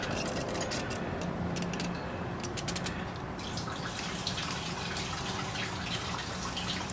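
Gasoline is poured back into the fuel tank of a 2005-2010 Jeep Grand Cherokee during a sending unit replacement: a steady, close liquid splash and trickle with a few small clinks, and no talk.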